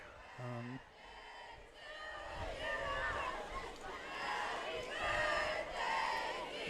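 A football game crowd sings happy birthday in the stands, a distant, faint sustained group singing under close commentators' talk.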